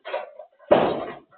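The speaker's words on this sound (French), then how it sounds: "Là, on a essayé de fermer les portes." Doors are pushed shut inside a château: a soft rubbing swing, then a sharp close thud with a short resonant tail, followed by a faint later bump, heard nearby with no talking.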